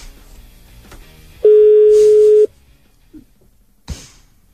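A telephone sounds one steady electronic ring tone lasting about a second, loud and close, followed by a brief quieter click and a short burst of noise.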